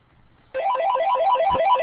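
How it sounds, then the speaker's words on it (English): A telephone rings in a classroom, starting abruptly with a loud warbling electronic trill that repeats in a fast rising-and-falling pattern and keeps going, close and clear with no talk over it. "I'll just wait till the phone stops ringing there"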